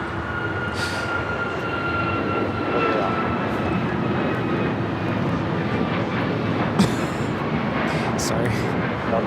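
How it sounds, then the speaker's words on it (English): American Airlines Boeing 787-8 Dreamliner jet at Los Angeles International Airport, a steady moderate engine rumble with a faint whine and someone talking over it. "that American Dreamliner, 787-8 Dreamliner, heading to Tokyo Haneda, flight 27, be heading to the north side"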